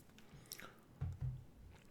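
Close, quiet chewing of tiny sjurygg caviar roe, a few soft wet bites and crunches in quick succession, intimate and near the mic.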